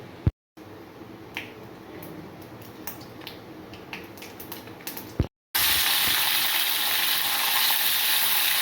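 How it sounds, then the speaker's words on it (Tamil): Sharp popping crackles over a soft hiss, then a sudden loud, dense sizzle takes over as mustard seeds hit hot oil. "இப்போ கடுகு போட்டாச்சு."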